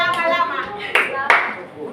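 A school class claps in a counted rhythm, a couple of sharp, distinct group claps standing out after a teacher's voice speaks.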